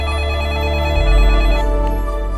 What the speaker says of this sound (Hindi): मनोहर जी का फोन है।